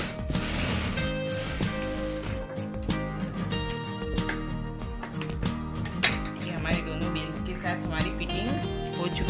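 A sewing machine stitches the belt onto a baby frock, a steady close mechanical rattle and clatter of the needle running continuously, with brief clicks and shifts in pace throughout.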